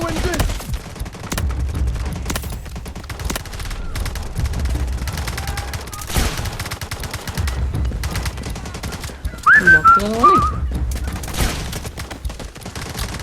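Game gunfire and explosions in Delta Force Mobile pound throughout, with dense rattling bursts and heavy low booms, and a short whistling or screeching effect near the end.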